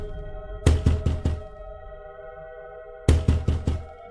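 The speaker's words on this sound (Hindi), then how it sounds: "फिर वह उस घर का दरवाजा खटखटाती है।" Knocks land on a house door in two separate bursts of four sharp, hollow raps each, close and distinct, over a sustained eerie musical tone.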